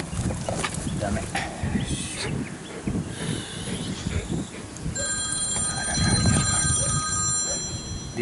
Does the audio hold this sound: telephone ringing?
yes